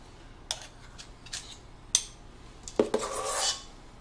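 A utensil scrapes around a mixing bowl while carrot cake batter is spooned into cupcake cases: a handful of short, sharp scrapes close by, ending in a longer rasping drag, with no voices.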